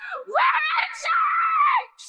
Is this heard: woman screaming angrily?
yes